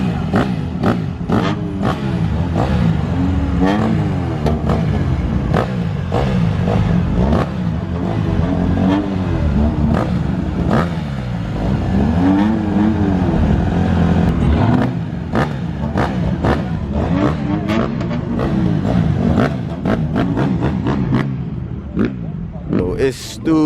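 Cars keep pulling into a crowded 2020 car meet, Mopars among them, with engines revving and accelerating in repeated bursts over a constant rumble while people talk nearby.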